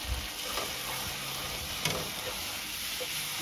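Garlic stirred into food sizzling in a pan at an outdoor camp cook-up, a steady broadband frying hiss with a soft scrape near the two-second mark, fairly quiet and without talk.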